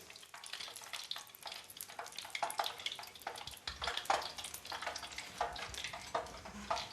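Food deep frying in hot oil gives a steady, soft crackling sizzle with scattered pops and bubbling, heard fairly faintly and alone for several seconds.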